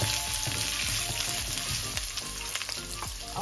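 Chopped red onion, two medium ones cut into squares, sizzles steadily in hot oil in a pan while being stirred, a continuous close frying hiss with occasional scraping stir sounds and no talk.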